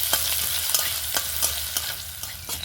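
Grated ginger and chopped green chillies fry in a little oil as they are stirred. A soft, steady sizzle is broken by regular spatula scrapes against the pan.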